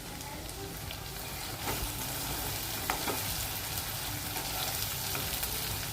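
Chopped coriander sautés in a hot pan for smoky butter pav bhaji, giving a constant close sizzle with occasional stirring scrapes, fairly quiet and without speech.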